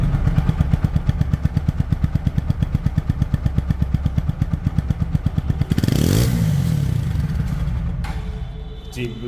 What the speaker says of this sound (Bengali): যে বাইক নতুন হয় সাউন্ডটাও কিন্তু নতুন